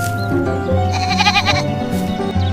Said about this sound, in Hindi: ऐज़ा का बकरा कितना प्यारा है।